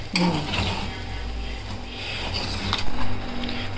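Kachori masala being scraped out of a kadhai onto a plate, close metallic scraping and clinks of a spoon against the pan, a couple of louder knocks, no talking.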